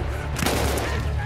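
Gunfire in the World War I shooter Battlefield 1, a brief cluster of sharp shots over game noise with a voice faintly underneath.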